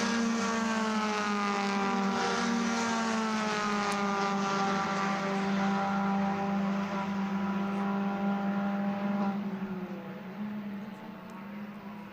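Suzuki Swift race cars roar past on a track during a cup race, their engines a sustained whine that holds steady and then drops in pitch and fades near the end. Distant and moderate in level, with no voices.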